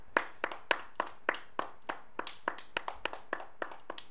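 Sparse, distinct handclaps from a small audience at an award announcement, roughly a dozen separate claps in an uneven rhythm, quiet and close.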